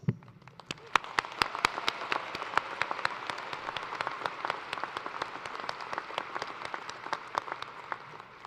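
Audience applause at a spring undergraduate commencement ceremony fills the space with steady, dense clapping, opening with a brief spoken voice before the ovation swells and holds evenly throughout.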